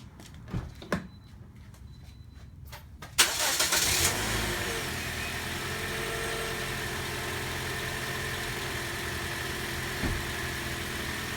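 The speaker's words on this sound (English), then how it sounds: "Let's start the car." A 2010 Toyota Corolla's 1.8L engine cranks briefly, catches, and settles into a steady, continuous idle hum that runs to the end.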